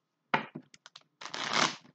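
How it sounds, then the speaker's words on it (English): Tarot cards are shuffled by hand up close, a few quick papery flicks followed by a longer riffling burst, fairly quiet with no talk. "one more shuffle and we in the game"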